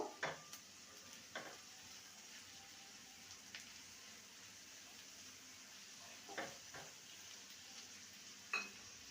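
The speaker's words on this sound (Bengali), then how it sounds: "এবারে দিয়ে দেবো আদা রসুনের পেস্ট ভালো করে কষিয়ে নেব" Onion and ginger-garlic paste being sautéed in a pan, heard as a faint, steady sizzle with occasional spatula scrapes and light clinks of stirring.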